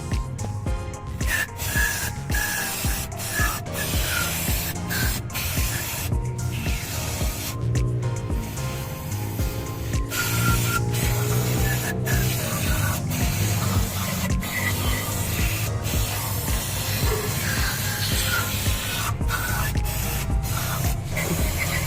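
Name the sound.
spraying cleaner on a Suzuki DR17V engine solenoid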